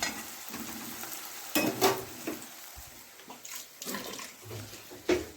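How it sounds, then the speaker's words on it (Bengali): Ginger, garlic and green chilli paste is sautéed with masala in a pan for chicken kosha, with a low sizzle under occasional spatula scrapes and clatters, close and steady. "এই যে আদা রসুন কাঁচা লঙ্কা পেস্ট দিয়ে দিয়েছি মশলাটা, এবার ভালো করে কষাবো তেল ছাড়া ছাড়া হওয়া অবধি।"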